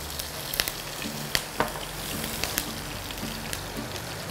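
Green chilies sizzle in hot oil with cumin seeds while cooking a gobi aloo mattar biryani, a steady close crackle with a few sharp pops and spits scattered across it and no voices.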